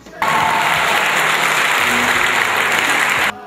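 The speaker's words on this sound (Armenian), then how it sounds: "հանրապետականների առաջնորդին չդադարող ծափահարություններով են" A crowd at a regional Republican Party rally gives sustained applause greeting the party leader, a dense, loud wash of clapping that starts abruptly, holds steady for about three seconds, then cuts off.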